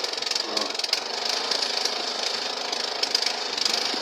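Homemade mini tractor with a Zhiguli gearbox running in fourth gear on a road, its small engine giving a steady, busy buzzing rattle that holds close and fairly loud for the whole stretch, with no talk over it.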